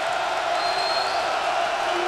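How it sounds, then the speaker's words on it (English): An arena crowd at a college basketball game between Memphis and Cincinnati roars in a steady, dense wall of cheering that is loud and sustained throughout. "And the crowd is back into it full throat."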